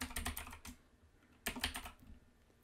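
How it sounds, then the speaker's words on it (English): Quick bursts of keystrokes on a computer keyboard, two short flurries of clicky taps close up with a pause between them, no talk. "I'm going to type in Ashley Vox again."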